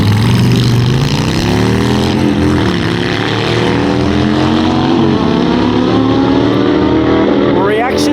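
A Harley-Davidson FXDR and a BMW motorcycle drag race at a bike night championship, loud revving engines rising in pitch through the gears, with an announcer talking over them.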